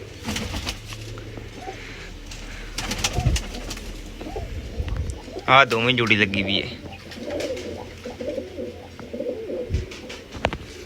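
Pigeons coo softly near a person who talks through the clip, with one clearer, throaty rolling coo in the middle and a few faint chirps and wing sounds around it.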